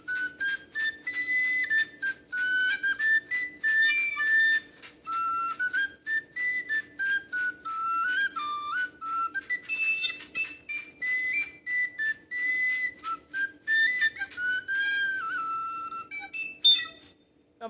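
An English-made Generation tabor pipe with a metal body and plastic flute head plays a bright, breathy whistle-like melody of quick repeated notes and runs, loud and unaccompanied, with a few short pauses between phrases.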